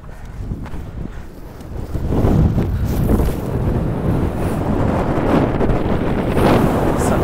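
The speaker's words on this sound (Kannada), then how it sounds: "ಸಖತ್ ಗಾಳಿ ಇದೆ ಇಲ್ಲಿ ಮೇಲೆ ಬಂದಂಗೆ" Strong gusting wind sweeps a hilltop at Mullayanagiri, roaring and buffeting the microphone close up, quieter at first and then swelling into a heavy, continuous rush.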